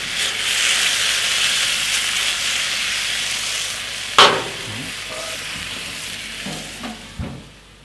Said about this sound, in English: now it's starting to